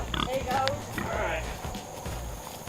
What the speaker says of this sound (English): Squealing and grunting.